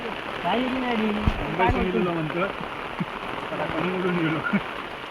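Heavy rain pours down as a steady, even hiss, with a voice talking over it through most of the stretch.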